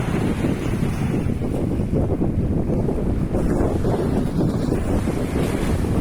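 Waves wash steadily onto a seashore in the early morning while strong wind buffets the microphone, a continuous loud rushing roar with no voices.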